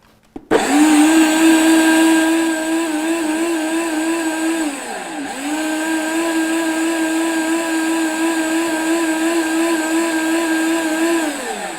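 A kitchen blender whirs up a homemade cough remedy, starting with a sudden loud motor whine that holds steady and dips in pitch briefly midway before settling back into a constant drone.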